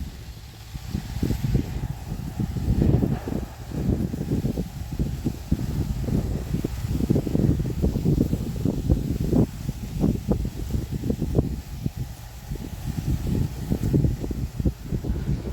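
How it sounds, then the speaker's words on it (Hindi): A farm tractor running in high gear while hauling a trolley loaded with about 50 quintals of sugarcane, a steady low engine rumble with wind and rattling noise throughout, no talking. "अब थोड़ा हाई गियर में लगा दिया है ट्रैक्टर।"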